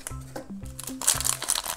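Plastic toy surprise packets crinkled and torn open, several short crackling bursts mixed with tonal plastic squeaks, close and fairly loud, with no talking.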